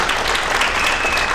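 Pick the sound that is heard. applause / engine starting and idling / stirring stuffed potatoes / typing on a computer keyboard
applause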